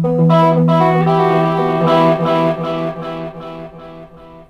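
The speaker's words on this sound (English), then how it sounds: "So I'll play you a digital delay. It'll be clean, no distortion." A clean electric guitar through a digital delay pedal, no distortion, plays a few chords, each followed by repeating echoes that decay evenly, loud and close, with no talking.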